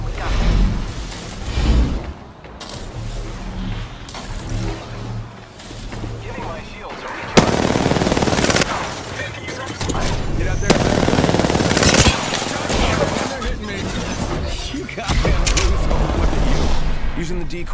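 Bursts of rapid automatic gunfire and heavier shots crackle through an Apex Legends firefight, with loud booms and whooshes layered between volleys and voices talking over the action.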